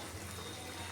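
Hot water pours steadily into a pan of snakehead fish curry with potatoes, a close, continuous liquid rush that stays even for the whole second.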